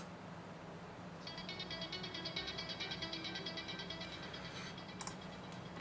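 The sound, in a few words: synth verse plucks from original sample pack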